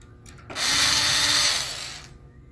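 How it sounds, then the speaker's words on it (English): A cordless screwdriver whirs in one steady burst of about a second and a half, close and loud, while working on a Lenovo 330S laptop during a memory and drive upgrade. "It's not a drill, it's a cordless screwdriver."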